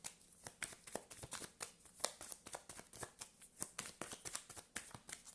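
A deck of tarot cards is shuffled by hand in a steady run of crisp riffles and slaps, close and fairly quiet, repeating several times a second with no voices.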